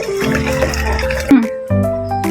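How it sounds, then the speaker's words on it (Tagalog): Running tap water splashes steadily as an onion is rinsed in a sink, with a short break in the flow before it resumes. "Isang sibuyas. Hugasan na po natin siya ng 2 beses."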